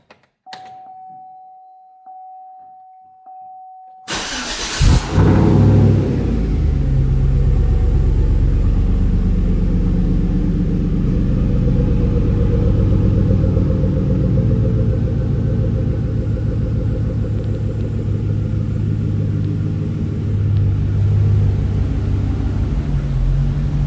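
Chevrolet Silverado truck with a 5.3 engine and its muffler cut out for a straight pipe, starting up after a few beeping chimes into a loud, deep, continuous rumbling idle close by.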